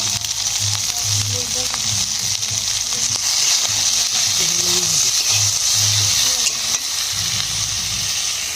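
Browned onion, potato and vegetable stems fry loudly in a pan, a constant close sizzle and hiss with occasional stirring scrapes and no voices.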